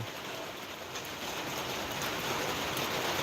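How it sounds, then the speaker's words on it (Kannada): Heavy rain falling steadily in the hills around Male Mahadeshwara Betta near Kowdalli village, Hanur taluk, a dense even hiss of drops with no voices. "ಬಹಳ ಚೆನ್ನಾಗಿ ಮಳೆ ಆಗ್ತಾ ಇದೆ"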